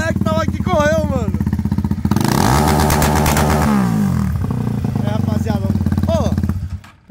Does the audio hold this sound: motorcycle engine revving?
yes